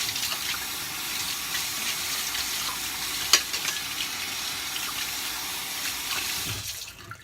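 Running tap water pours steadily into a sink as something is rinsed beneath it, a close, even hiss with one brief clunk partway through, cutting off near the end.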